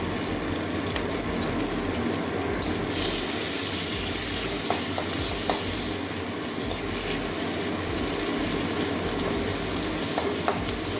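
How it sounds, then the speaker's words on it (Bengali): Onions frying in oil in a pan after garlic, green chilli and cauliflower go in, for a bitter gourd, potato and water spinach dish; a steady close sizzle and crackle runs throughout with faint stirring clicks and no talk. "পেঁয়াজটা ভেজে নেব লাল লাল হওয়া পর্যন্ত"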